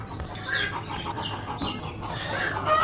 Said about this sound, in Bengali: হয়তো ডিম পেড়েছে, ডিম পারলে ওরা এমন করে চিল্লাচিল্লি করে।